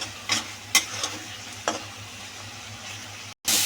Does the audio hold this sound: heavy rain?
no